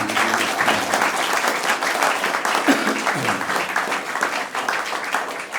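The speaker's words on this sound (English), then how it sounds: "I want us to give a big round of applause for Bill" A room full of people gives a big round of applause at a welcome back event, dense sustained clapping that stays loud and even from start to finish.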